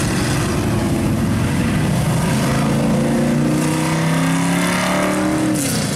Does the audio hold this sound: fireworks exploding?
no